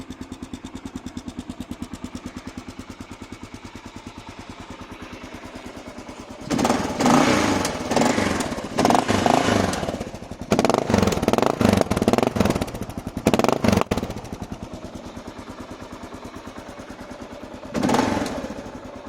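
A 2014.5 Kawasaki KLR 650 single-cylinder engine runs close by, a steady thumping idle that then rises into several sharp throttle blips and revs before settling back to idle, with one last rev near the end.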